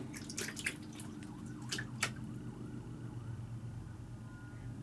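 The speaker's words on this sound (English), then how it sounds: "there's so many sirens outside" Emergency sirens wail faintly in the distance outside, rising and falling beneath a steady indoor hum and a few close drips and clicks.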